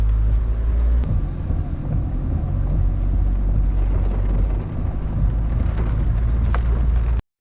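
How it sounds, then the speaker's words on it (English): Dense, steady rain pours down beside the rising Hawkesbury River in Windsor, over a continuous low rumble, loud and unbroken throughout, with no voices. "The rains has continued to get heavier all morning."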